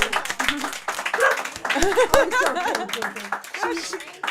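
Scattered clapping from a small crowd at a poetry reading, mixed with chatter and light laughter, the claps uneven and fairly close.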